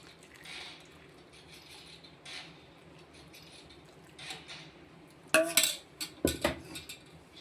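Jaggery syrup being strained in a kitchen for kozhukattai: quiet shuffling, then a cluster of loud metal clinks and knocks from utensils near the end, with no talking.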